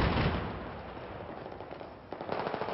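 Rapid automatic gunfire rattles through a 5v5 Domination match on the Dawnbreaker map, a dense, continuous crackle of shots that fades a little and then flares up again near the end, with no voices over it.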